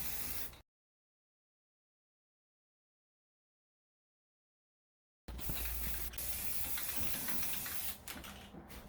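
Spray can paint hissing onto a fireplace as a first coat, a brief burst at the start, then a long silence, then a steady close hiss with a few short bursts.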